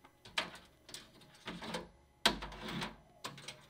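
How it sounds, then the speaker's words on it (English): A laser machine cuts standard printer paper at 50% power and 60 mm per second, giving faint, intermittent mechanical bursts and clicks as the head moves, with short pauses between passes. "Cutting out the paper on the laser machine,"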